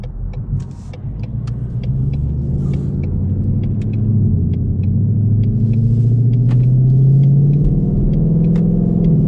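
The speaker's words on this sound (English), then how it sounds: "that exhaust sounds so good." A deep, throbbing V8 exhaust from a 2020 Ford Mustang GT 5.0 rumbles steadily and loudly up close, with the engine note rising and falling slightly and faint ticking sounds on top.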